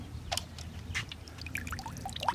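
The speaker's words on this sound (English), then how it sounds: "then we'll give it some water" Water is poured from a container onto a potted tomato plant to fill gaps in the soil, giving short splashes and trickles, close and fairly quiet, with no talk.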